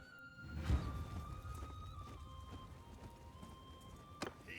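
Cavalry horses moving in Mount & Blade II: Bannerlord, with soft clip-clop hoofbeats and a faint whinny over a steady battlefield ambience and a sustained tone, plus a sharp crack near the end.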